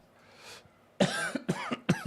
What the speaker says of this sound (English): Sounds like you've got the cough as well.